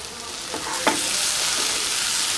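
Spicy chicken masala frying in an open pan gives a loud, steady sizzle throughout, with a couple of soft scrapes of stirring and no talking.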